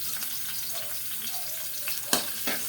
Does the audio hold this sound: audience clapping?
no